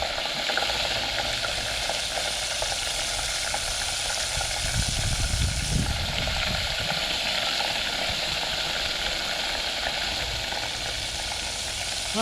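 Squid fries in a hot pan with a dense, continuous sizzle, loud and close, swelling briefly midway as the pieces are stirred.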